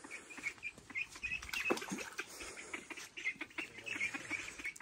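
Ducks at a small backyard pond quack and chatter repeatedly at close range, a busy and fairly quiet stream of calls with a few louder squawks.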